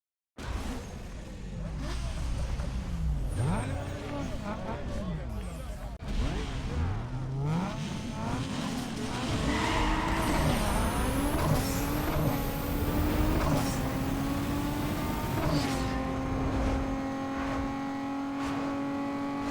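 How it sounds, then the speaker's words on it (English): A Nissan 350Z with a 3.5L V6 and stage 3 turbo roars through a drag race in Need For Speed Underground 2, revving hard and climbing through gears with rising whine, steady and loud, with faint talk underneath. "Engine is about to pop."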